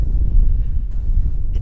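Steady low rumbling wind buffeting the microphone in cold weather, loud and continuous with no voices.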